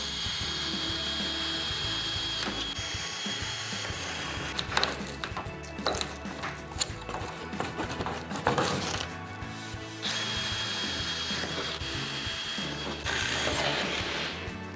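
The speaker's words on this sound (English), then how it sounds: "choose a drill bit just slightly larger than the inside of the rivet head and drill it" A drill bores out rivets on a metal access door, giving a steady whirring grind with bursts of harsher biting and rattling as the bit cuts through, close and continuous.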